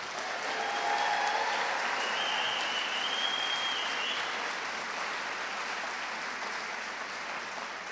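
Audience applause after an all-county chorus concert, a broad, sustained wash of clapping from a large crowd, slightly fuller at first and then holding steady.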